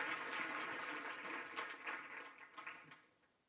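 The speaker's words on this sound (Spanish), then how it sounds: "les agradezco un aplauso para Jean-Paul por su compañía y agradecimiento" Applause from a conference audience, dense at first and then thinning and fading out over a few seconds, fairly quiet overall.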